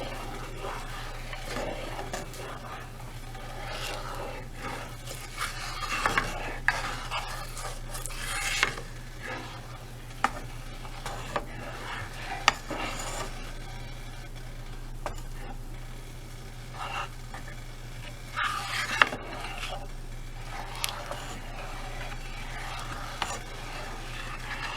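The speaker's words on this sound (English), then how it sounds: "Let me give it a good stir." A seafood boil seasoning mixture stirred in a pot: soft repeated scraping and swishing of a utensil against the pot with occasional sharper clinks, close and moderately quiet.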